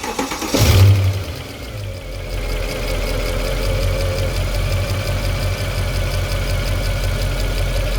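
A 2008 Mercedes CL63 with 93k km cranks and fires with a loud burst, then settles into a steady, low rumbling idle that continues unbroken, recorded close up.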